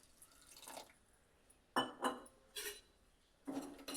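Water goes into a pot of jaggery for North Karnataka pumpkin gari, in a few short splashy bursts and drips with faint clinks of the vessel, quiet and close.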